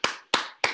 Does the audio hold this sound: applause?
yes